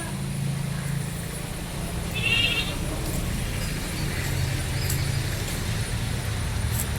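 Goats at a livestock farm where animals are sold, one bleating in a short, clear burst midway through a steady wash of rain and distant road traffic.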